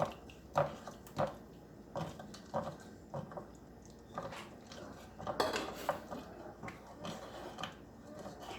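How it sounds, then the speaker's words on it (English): Spoon scraping and clinking against a skillet as orange chicken sauce is stirred in, with a series of uneven metallic taps and knocks at moderate loudness, no voices. "So as you're adding it, you want to just stir it in."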